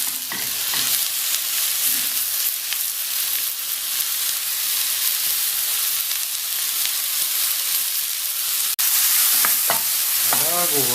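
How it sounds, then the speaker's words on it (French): Mushrooms frying and being stirred in a pan over medium heat for a mushroom cream sauce, a steady close sizzle with spatula scrapes and stirring throughout, and one sharp click near the end. "On y met nos champignons. On mélange, ils vont rendre un peu d'eau."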